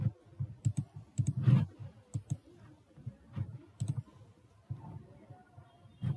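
Crisp mouse clicks tap out singly and in quick pairs across Windows 10 settings menus, close and fairly quiet, with low soft thuds between them and no talking.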